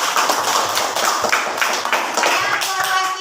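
A group of students breaks into dense, sustained applause in a classroom, steady clapping filling the room from start to finish with a faint voice underneath.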